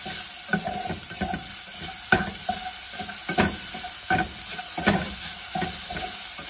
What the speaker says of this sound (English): you're gonna wanna saute that on a low to medium heat